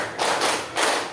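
A group of people clapping hands together in a counted pattern: two broad, fairly loud bursts of claps close together, with no voices.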